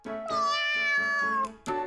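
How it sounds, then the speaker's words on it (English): A cat meows in the visual novel game You and Me and Her: A Love Story, giving one long, drawn-out, wavering meow up close, followed by the start of a second. "I hear a little meow from below me."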